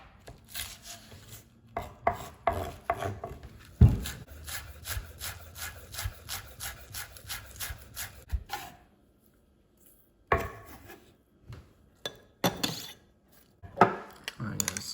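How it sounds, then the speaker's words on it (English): A knife chops chives on a board for a salmon poke bowl sauce: quick runs of close, crisp rhythmic taps, broken by short pauses and a few heavier knocks, with no talk. "I'm gonna take my chives and chop it"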